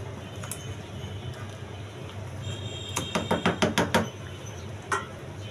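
Food stirred in a pan while cooking fried rice, a quick run of sharp metallic scrapes and knocks near the middle, then one more, over a low steady background hum.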